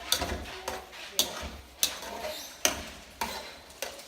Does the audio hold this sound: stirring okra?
yes